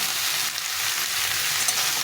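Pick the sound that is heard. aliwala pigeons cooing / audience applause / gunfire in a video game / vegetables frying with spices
vegetables frying with spices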